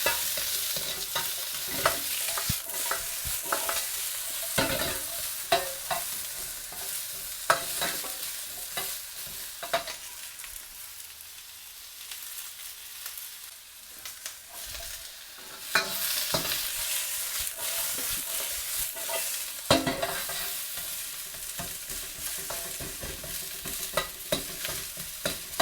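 Chopped onion sizzles steadily in a hot pan for a Chinese takeaway-style chicken curry, broken by repeated scraping bursts of stirring, with no talk.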